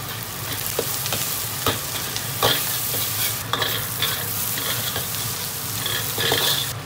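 Side vegetables stir-fried with Lao Gan Ma chili sauce sizzle in a wok, with a steady frying hiss and repeated scraping strokes of a spatula, close and fairly loud, no talking.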